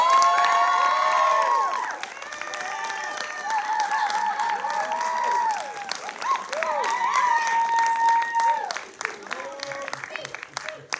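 A crowd at a forensics showcase applauds and cheers for coach Eric Minchin, loud sustained clapping with whoops and shouting throughout, voices calling out over the ovation before it thins near the end.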